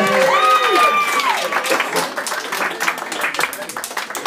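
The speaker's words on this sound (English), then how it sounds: "Clap it up for Scotland Green." Comedy club audience in New York clapping for comedian Scotland Green, a bright burst of applause that starts under a voice and continues as a dense, lively patter.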